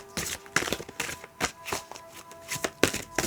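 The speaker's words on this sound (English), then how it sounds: "This deck is huge. This one is really hard to shuffle." A huge oracle card deck being shuffled by hand: repeated crisp riffling and slapping bursts of cards in an uneven rhythm, close and fairly quiet, with no talking.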